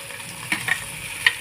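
Onions frying in oil in a pan for egg curry, a soft steady sizzle broken by a few quick scraping stirs over a short stretch.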